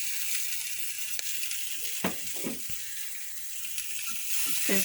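Water poured into a hot pan sizzles steadily during a homemade three-ingredient breakfast dish with cheese. A dense, continuous hiss holds throughout, broken by a few faint pops and soft bubbling near the pan, with no speech.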